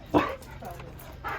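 A 16-week-old Akita puppy gives one sharp yip-like bark and then a fainter whimpering cry, while a person speaks nearby.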